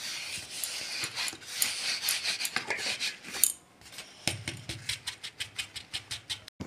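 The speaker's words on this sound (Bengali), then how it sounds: "এই যে ডেলা ডেলাগুলো আছে আমি হাত দিয়ে একটু গুঁড়ো করে নিচ্ছি" Lumps of sifted gram flour being crushed by hand, giving a run of soft dry rubbing and gritty crumbling strokes, close and fairly quiet, settling into a regular rhythm of short rasps toward the end.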